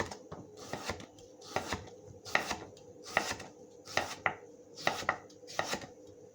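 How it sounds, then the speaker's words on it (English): A knife slicing a potato very thin on a board, about eight steady, evenly spaced cuts, each a sharp close tap with a short scrape, in a quiet room with no talking. "So all I've done, look, as you can see here, is cut the potato very thin."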